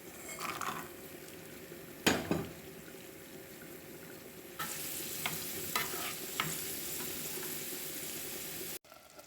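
Cashews and raisins fry in a hot pan during mutton biryani preparation: a soft continuous sizzle with scraping stirs and one sharp utensil clank near the start, close by and without speech.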